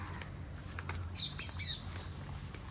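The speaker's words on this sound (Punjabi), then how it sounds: "ਤੋਤੇ ਬੋਲਦੇ" Scattered high squawks and chirps of parrots ring out over a steady low hum among mango trees, moderately distant, with no talking.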